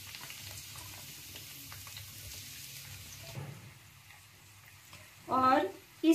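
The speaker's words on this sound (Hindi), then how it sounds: "एक पैन में मैंने मस्टर्ड ऑयल को गर्म कर लिया है और इसमें अब हम अपने कटहल को डीप फ्राई करेंगे" Jackfruit pieces deep fry in hot mustard oil in a pan, giving a low, steady bubbling sizzle that lasts throughout, with a brief voice and a louder clatter near the end.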